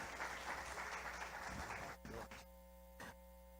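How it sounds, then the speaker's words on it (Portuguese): A church congregation claps in steady, dense applause, fairly faint and fading out after a couple of seconds, with a low mains hum beneath. "É para Deus essas palmas aí?"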